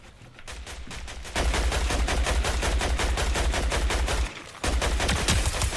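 Rapid automatic gunfire in Fortnite, loud and close, with dense rhythmic bursts of shots running almost continuously, a brief pause near the end before firing resumes.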